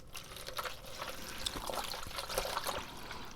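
Water poured from a container onto soil in a potted plant, a steady splashing trickle close by, continuous throughout with no talking.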